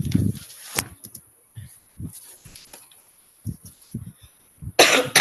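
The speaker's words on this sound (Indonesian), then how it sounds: "Mohon maaf ya Ibu Bapak kalau saya sedikit agak batuk nih" A man coughs and clears his throat repeatedly during an online lesson, a sharp close cough followed by a run of short dry coughs and throat noises with quiet gaps between.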